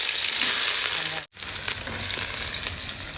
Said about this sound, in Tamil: எண்ணெய் நல்லா காஞ்சிச்சுப்பா கடுகு வெந்தயம் கொஞ்சம் வந்து கருவேப்பிலை வந்து